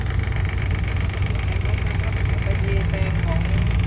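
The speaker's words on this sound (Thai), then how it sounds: "ดี๋ยวรถไถมาดันดูว่าจะขึ้นไหมครับ" Tractor engine running steadily at a low rumble on a dirt site, set to push a loaded dump truck through soft soil, heard under someone talking.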